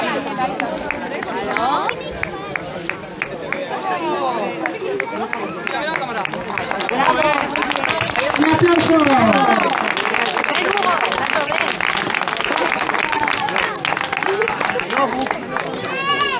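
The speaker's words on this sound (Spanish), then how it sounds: "¡Un aplauso!" Crowd at a race awards ceremony clapping while people chatter and call out close by, the applause building in the middle and continuing under lively talk.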